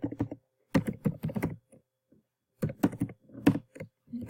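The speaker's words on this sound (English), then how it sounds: "we want to type the message" Fingers type a message on a computer keyboard with rapid, close-up clusters of key clicks, two bursts separated by a short pause and a few stray taps, with no speech.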